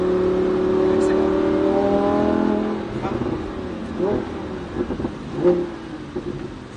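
A sports car at a track driving course, its engine holding a loud, steady drone that then drops and fades into rougher, uneven engine noise, with a voice speaking over it.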